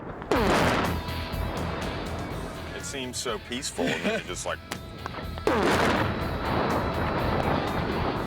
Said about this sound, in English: watch a cement truck get filled with 850 pounds of ANFO and blown up